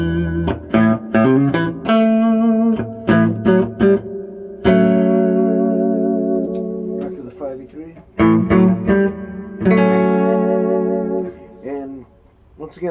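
Electric guitar through a Fender Princeton Reverb amp, played in a few clean, ringing chords and single notes that are left to sustain and decay with reverb.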